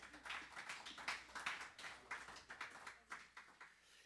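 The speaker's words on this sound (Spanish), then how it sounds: "Dame un aplauso fuerte a ellos." A church congregation claps together, a steady run of fairly quiet, close hand claps forming brief applause with no talking over it.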